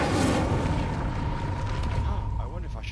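A fire spell cast in the Hogwarts Legacy video game bursts out with a loud whooshing, crackling roar that fades over a few seconds, with a mechanical creak underneath.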